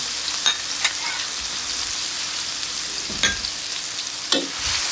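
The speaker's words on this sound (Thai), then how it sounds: "ตั้งกระทะ ใส่น้ำมันลงไป นำพริกกระเทียมที่ตำเอาไว้ใส่ลงไป ผัดให้หอม" Pounded chili and garlic stir-fry in hot oil in a wok for a Thai king mackerel dish, a steady close sizzle broken by a few sharp scrapes of the spatula, with no voices.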